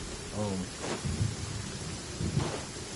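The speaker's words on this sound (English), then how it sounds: "At least it's raining." Steady rain pours down in Genshin Impact as game weather, with low rumbles of thunder rolling through several times; faint voices sit underneath the downpour.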